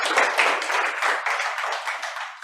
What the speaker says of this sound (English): Can we give Emguarde a big round of applause